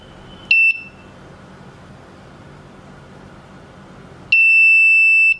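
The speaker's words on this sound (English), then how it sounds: "a long beep which reveals that it got successfully connected to Ubidot server" A home automation system board emits electronic beeps as it connects to a server: a short high-pitched tone, a pause filled with faint hiss, then a longer steady beep lasting about a second, loud and close.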